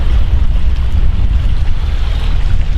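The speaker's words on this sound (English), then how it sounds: "we've got wind blowing over here as well" Steady, loud wind roaring across the open east bank of Esthwaite Water lake, a constant low rumbling buffet against the microphone with no pauses and no voices.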